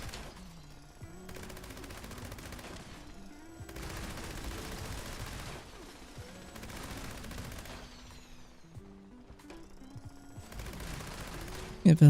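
Bursts of automatic gunfire against turrets in Fallout 76 come in several rapid volleys separated by short pauses, with mechanical game sounds between them.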